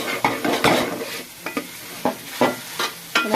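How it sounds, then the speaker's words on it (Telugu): Chicken biryani with mint and coriander fries in a pot, a soft continuous sizzle broken by a series of sharp stirring scrapes at an irregular rhythm. "చూడండి చక్కగా ఫ్రై అయిపోతుంది."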